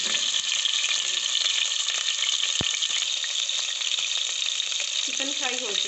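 Chicken frying in oil in a pan makes a bright, steady sizzle with scattered crackles and one sharp click, ending in a brief muffled shift.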